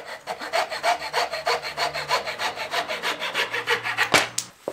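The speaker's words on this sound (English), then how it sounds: "I'm gonna cut it with a handsaw" A wooden board being cut with a handsaw, as a rough rasping rhythm of about twenty steady push-pull strokes that sounds close and loud and carries no talk, ending with a sharper knock near the finish.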